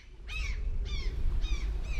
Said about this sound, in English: gulls to soar above me, weightless in the air, suspended and squawking.